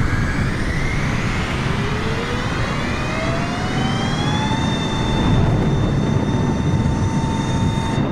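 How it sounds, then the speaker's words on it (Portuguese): Airplane engines in the video game Microsoft Flight Simulator spool up with a rising whine over a loud, steady roar, the tone climbing then holding high and constant; no talking. "Motores ativados."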